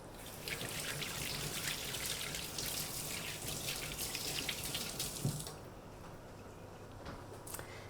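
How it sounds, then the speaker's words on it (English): Tap water runs steadily into a kitchen sink while carrots are washed by hand, a continuous hiss with small splashes, then the flow stops and a few faint drips and clinks follow. "I've got my carrots and I'm just going to give them a wash."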